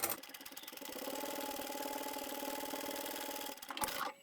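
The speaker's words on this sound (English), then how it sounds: "You can just sew straight across the other side and come back down." Sewing machine stitching straight across scrap fabric for a zippered tablet pouch, running as a fast, steady mechanical whir that holds for about three and a half seconds, then slows and stops with a brief clunk.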